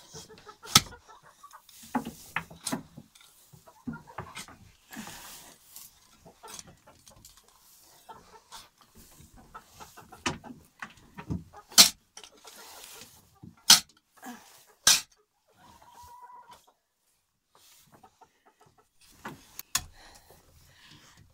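Chickens in a composting henhouse give scattered clucks and short squawks, fairly close and intermittent, over quiet background.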